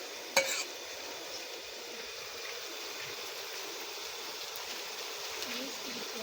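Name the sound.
garlic paste frying and being stirred in a pan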